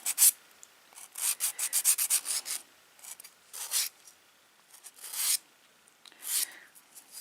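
A nail file rasps across short almond-shaped nails that have a sticky gel layer, in quick back-and-forth strokes. The scratchy bursts come in uneven clusters with brief pauses between them. The sound is close and fairly soft, with no talking.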